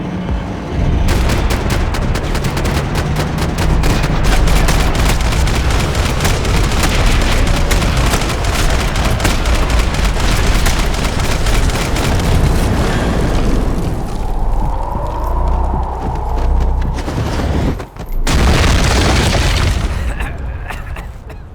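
Intense gunfire and explosions in the Max Payne 3 video game, a dense, loud, continuous barrage of rapid shots and booms lasting throughout, with a brief dip near the end, under occasional shouting voices.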